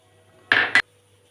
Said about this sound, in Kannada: ಮೊದಲನೇದಾಗಿ ಒಂದು ಜಾರ್ ತಗೊಂಡು